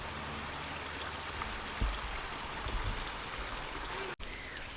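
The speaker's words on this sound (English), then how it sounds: "You hear the water running." Water runs steadily beside a yard planted with yellow loosestrife, a faint continuous trickling hiss with occasional small splashes and no talking.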